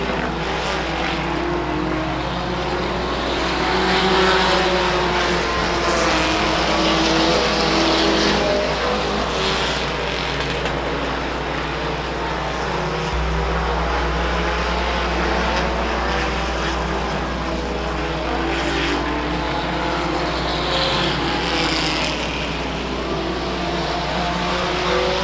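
Stock car racing trucks at Stockton 99 Speedway roar continuously, a loud, dense engine drone that swells and shifts as the pack circles the oval, with no break across the whole stretch.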